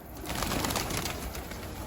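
Pigeons gather on a rooftop and scurry toward scattered feed, a close, steady bird sound with soft cooing running throughout, no talking.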